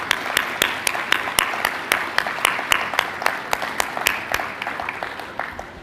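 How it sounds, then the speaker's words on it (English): Audience applause at a manufacturing keynote, a close, even patter of hand claps that carries steadily and slowly thins out toward the end. "I'd really just like to lead a round of applause"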